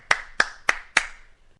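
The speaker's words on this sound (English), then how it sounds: "Station master applauds." Four sharp, evenly spaced hand claps from a single person, the station master applauding in a reading of Chekhov's The Cherry Orchard, close and clear with nothing else around them.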